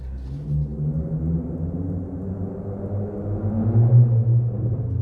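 A car's exhaust rumbles as it passes through a parking garage, a deep, steady drone echoing off concrete that swells louder toward the end as the vehicle draws close.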